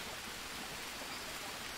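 Steady rain falls in the Green Hell video game, a dense, even hiss filling the short moment with no other sounds.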